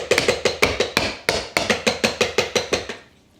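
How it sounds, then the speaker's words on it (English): A hammer tapping on a good solid hard bench while a woodblock print is being made, with about fifteen sharp close strikes in a quick, slightly uneven rhythm that stop abruptly near the end. "I'm almost done here with the hammer."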